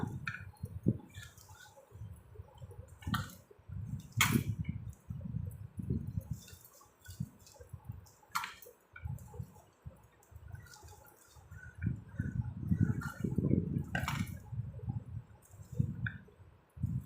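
Hands squeeze and press onion pakoda dough in a bowl, using only the moisture from the onions: soft, close, wet squishing pulses repeat irregularly, with occasional sharper clicks and quiet pauses, no voices.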